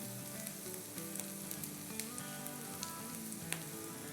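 Two tablespoons of oil sizzle in a hot pan for tawa pulao, a dense, steady crackling fry that runs throughout with small pops scattered across it and no voices.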